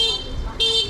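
A passing car on a Cambodian street gives two short toots of its horn in greeting, loud and close, over light road noise.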